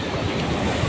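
Ocean surf rolls against a small fishing boat at sea, a continuous close wash of water with wind buffeting the microphone, brief and unbroken.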